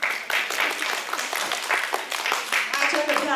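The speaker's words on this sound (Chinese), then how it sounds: "掌声鼓励。" Audience applause at a New Year concert, a sustained burst of many hands clapping that fills the whole stretch, loud and close, with voices mixed in.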